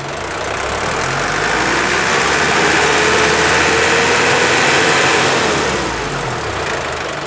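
A 2004 Suzuki Raider motorcycle engine idles steadily and loudly up close, a continuous even rumble that holds for several seconds with no talking.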